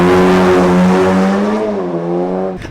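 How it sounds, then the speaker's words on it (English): A VW Golf R exhaust revving outdoors, a loud close engine note with strong harmonic drone that holds steady, dips as revs fall, then cuts off abruptly near the end. "let's have another little exhaust test."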